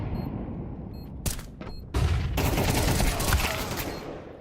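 Gunfire crackles through a competitive pro league match in a tactical shooter, a few quick shots followed by a louder, sustained burst of firing over ambient game noise.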